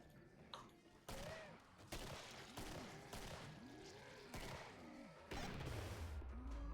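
Gunfire in a first-person shooter video game, a series of loud sharp shots spaced about a second apart, each ringing out with a metallic tail, close and prominent.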